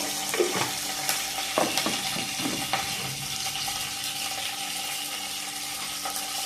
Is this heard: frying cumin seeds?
yes